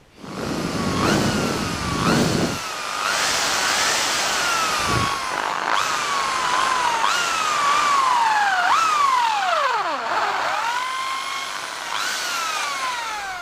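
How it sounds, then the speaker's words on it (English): A power drill bores through the centres of shortened 8mm bolts for new thermocouples on a Streak Shadow engine being decoked, its loud close whine rising and dropping in pitch as the bit bites and slows. "So now I've got to drop some holes right through the centre of those."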